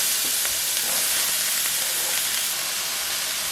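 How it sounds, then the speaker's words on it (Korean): Chopped onion frying in oil in a heated heavy pot makes a loud, steady, close-up sizzle that hisses continuously without a break. "데워진 두꺼운 냄비에 오일 넣고 썰어 놓은 양파를 넣으시고요"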